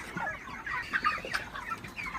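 Broiler chickens on a poultry farm cluck and chatter in a steady, overlapping flock noise, with several sharper calls rising above the murmur at close range.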